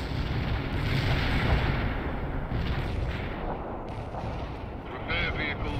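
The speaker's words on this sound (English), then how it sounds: "It's a very high velocity artillery" Heavy artillery fire in the World in Conflict real-time strategy game, with dense, continuous booming barrages and rumbling impacts that fade slightly toward the end, while a voice talks over them.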